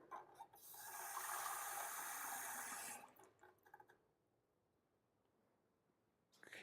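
Tap water pours steadily for about three seconds with a bright, rushing splash, then stops, leaving a few small clinks and handling noises before a brief rustle at the end.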